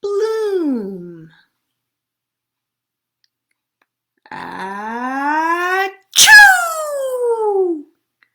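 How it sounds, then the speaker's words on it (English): A person gives an exaggerated, voiced sneeze during a sensory storytime, with a rising build-up and a sharp burst, preceded by a short sung or spoken vocal sound; the sneeze may be acted. "Sometimes flowers and plants make people sneeze."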